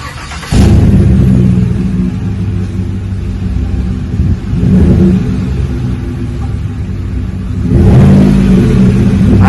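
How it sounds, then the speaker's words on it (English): A 2019 GMC Yukon fitted with a Flowmaster 40 muffler revs up, its deep throaty exhaust rumble loud and close, swelling twice with a steady idle-like drone between the revs. "Installed a nice Flowmaster 40, giving a nice clean throaty sound, just like an exhaust should."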